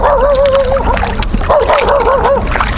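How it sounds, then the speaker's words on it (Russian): Dogs guarding their territory on a riverbank bark and whine at a kayak passing on the Sudost and Desna rivers, with wavering yelps and barks up close and water splashing. "О, меня обгавкали. Да, охраняют территорию"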